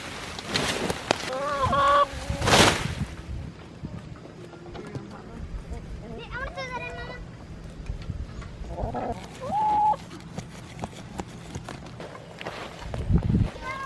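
Chickens clucking in a backyard vegetable garden, several short bursts of clucks and calls that come and go beside a person speaking, with some thumps and handling noise.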